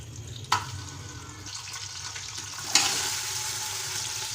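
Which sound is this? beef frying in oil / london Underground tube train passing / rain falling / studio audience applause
beef frying in oil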